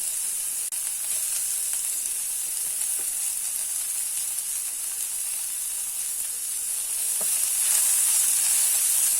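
Chillies and grated coconut fry in a hot pan on the stove, giving a constant close sizzle and hiss with occasional faint stirring clicks and no talk.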